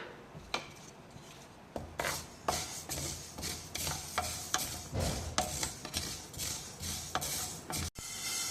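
Mustard seeds heating in a hot pan for a chilli-lemon pickle, a dense crackle and rustle with repeated scraping strokes of a spoon across the pan, close and continuous, no talking.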